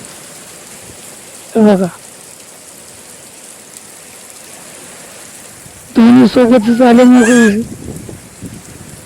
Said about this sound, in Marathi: बघा पाऊस वार दोन्ही सोबतच.